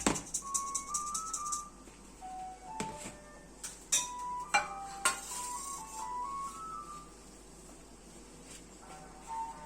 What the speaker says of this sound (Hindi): मिक्स कर लेंगे अच्छी तरह